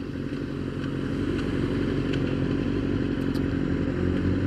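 Motorcycle riding on the road, a steady loud engine drone with low rumble and wind noise running continuously throughout, with a few faint clicks and rattles on top and no talk.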